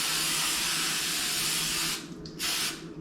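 A can of Cardini olive oil cooking spray hisses onto a pan in a long continuous spray, then two short bursts follow near the end, close and loud.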